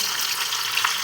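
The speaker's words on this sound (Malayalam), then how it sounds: "പരന്ന പാത്രമാകുമ്പോൾ നമുക്ക് കുറച്ച് ഫ്രൈ ചെയ്യാം." Chicken pieces for dry chilli chicken fry in a flat pan, giving a steady, close, dense sizzle and crackle that holds evenly throughout with no voices.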